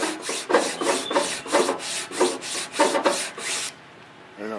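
Wooden guitar brace from a 12-string guitar rubbed back and forth on clamped sandpaper, about nine rhythmic rasping strokes close up, then a short pause.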